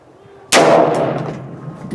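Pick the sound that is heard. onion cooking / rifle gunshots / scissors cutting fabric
rifle gunshots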